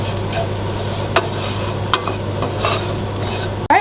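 Onions with chili flakes, cayenne, salt and pepper mixed in a bowl, producing a steady close scraping with a few sharper knocks of the utensil and a final clatter.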